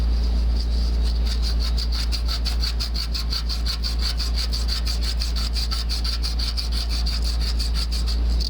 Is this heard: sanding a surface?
yes